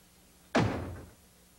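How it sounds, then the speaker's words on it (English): A door slams shut once with a sharp, heavy thud that fades over about half a second in an otherwise quiet room, no voices. "let me save you the trouble and slam the door for you."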